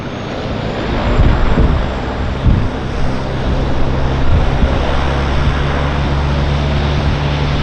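A Beaver floatplane lands at Vancouver Harbour, its engine droning loudly and steadily over wind and lapping water.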